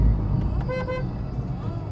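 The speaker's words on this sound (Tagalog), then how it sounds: "kailangan din magpalit ng busina kasi yung busina nyo malambing" A VinFast VF3 gives a short, soft, mellow horn toot of about a fraction of a second, close by, with people talking around it.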